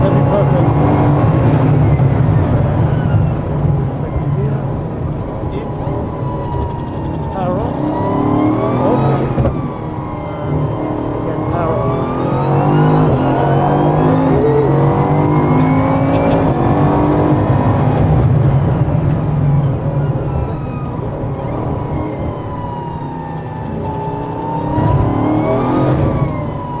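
A car accelerates hard through repeated rising engine revs and gear changes on a drive, loud and close from inside, while people talk over the engine noise.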